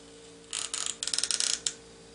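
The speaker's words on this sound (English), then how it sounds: "we're going to lock it into place, okay? So you just push this lever down just the same way that you pulled it out" A CPU socket retention lever on a PC motherboard is pushed down and locked during a processor install, giving a quick run of sharp metallic clicks and scrapes close up, ending in one final snap.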